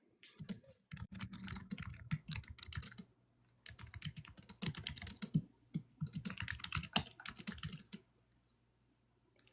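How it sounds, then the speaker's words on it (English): Loud computer keyboard typing up close, in dense rapid bursts of clicking keystrokes with brief pauses between runs, and no talking. "And my keyboard's loud this"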